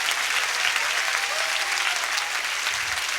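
A church congregation applauds during a sermon, with steady, dense clapping from many people filling the room evenly at moderate loudness, with no pause.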